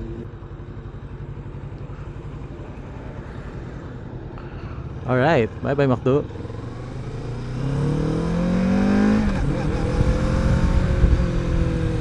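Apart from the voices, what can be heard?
Kawasaki Z650RS motorcycle riding onto expressway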